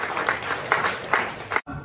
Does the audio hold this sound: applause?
yes